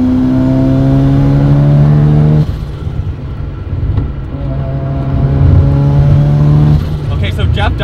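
A car with its ignition timing advanced accelerates hard on the road, the engine note rising in pitch through a gear before dropping into a rough roar, with wind noise close in the cabin.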